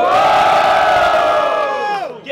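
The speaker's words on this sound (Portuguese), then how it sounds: "quem achou que Breck foi superior nesse round faz muito barulho" A battle rap crowd at a Brazilian student rap battle roars with loud, sustained cheering and shouting that fills the space, dropping off briefly near the end before rising again.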